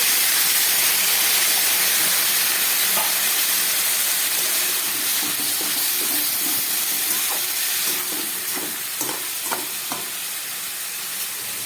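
Steady loud sizzle and hiss of steam as water is sprinkled onto Malabar spinach curry frying in a pan, with occasional stirring scrapes and small pops.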